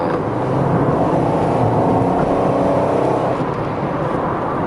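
Pontiac Firebird T-top, a GM F-body coupe, engine droning steadily from inside the car while driving at moderate speed, a continuous low rumble with road noise and no voices.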